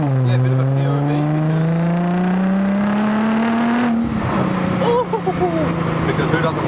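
A Nissan R35 GTR exhaust drones steadily while cruising, its tone slowly rising under light throttle, then dipping as the engine settles, close and continuous, with faint voices in the background.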